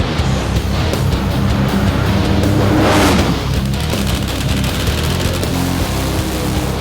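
Aeroflow Outlaw nitro funny cars drag racing in New Zealand, a loud, sustained engine roar that swells to a peak mid-run and then eases off, heard from a distance with broad noisy rumble.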